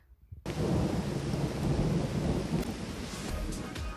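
After a brief quiet moment, a loud, steady roar of heavy rain and rumbling thunder sets in and continues without pause.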